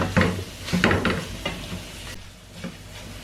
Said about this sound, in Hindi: खजूर को हम अभी भून रहे हैं लगातार, चमचा हिलाते जाना लगातार